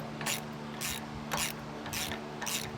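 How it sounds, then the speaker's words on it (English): A 14mm socket and ratchet wrench tighten bolts on a disc brake kit, giving five evenly spaced, close, quiet clicking bursts over a low background hum. "I am using a 14mm socket and wrench to get these all tightened down."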